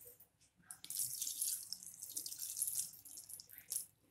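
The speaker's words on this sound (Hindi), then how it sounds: "अब हम इसमें आधा ग्लास पानी डालेंगे।" Half a glass of water poured into a pan of jaggery on a gas stove, a steady close splashing pour lasting several seconds with a brief pause near the start.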